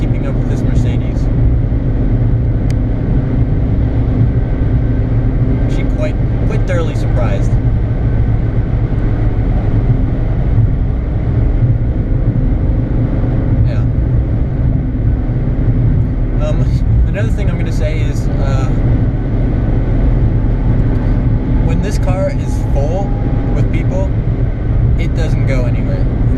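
A Skoda Fabia drives fast on the Autobahn, with steady loud road and engine roar and wind rush inside the cabin throughout, and occasional talk over it.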